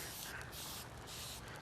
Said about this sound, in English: Let me spray some of this Pam on here so we can really keep it honest and low fat.